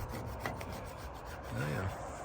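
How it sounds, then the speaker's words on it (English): A plastic scraper scrapes coating material off an airboat hull in a steady, close rasping rub that swells louder toward the end, with a brief low voice murmur near the end. "Just using a plastic scraper. Yeah, it's coming right off."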